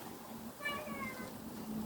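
A hungry house cat gives a single drawn-out meow, faint and some distance away indoors, against a quiet hum in the room during a yoga class.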